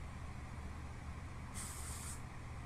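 A can of hairspray gives one short, hissing burst of mist onto a ponytail, close but soft, over a low, steady room background.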